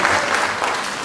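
Brief burst of full audience applause at a medical school diploma and oath ceremony, many people clapping together at an even, loud level throughout.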